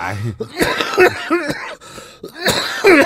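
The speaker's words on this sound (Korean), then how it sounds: "기침도 막 나고" Several loud, close coughs and throat clearing from a man with a sore, rough throat, breaking up bursts of his own speech over about three seconds.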